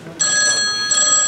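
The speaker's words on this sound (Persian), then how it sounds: "صدای تلفنه" A telephone rings as a stage sound effect during a theatre performance of Rumors, a loud electronic ring in two close bursts with no talking.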